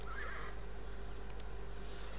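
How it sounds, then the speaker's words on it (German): A brief video-game horse whinny rises near the start over a constant low electronic hum, followed by a couple of faint clicks. "dafür nehmen wir uns auch mal unser neues Pferd, unseren Ferdinand mit."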